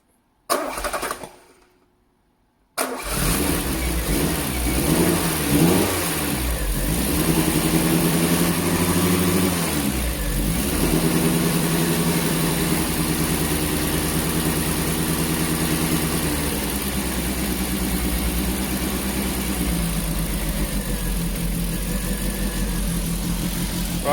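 A Peugeot 205 GTI engine with an idle control fault cranks and fires after a short silence, then catches and settles into a steady, fairly loud idle, with a light blip of the revs early on; no one talks.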